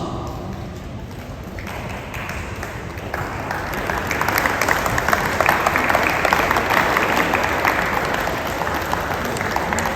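A debate competition audience applauds, the clapping swelling louder midway and continuing steadily to the end.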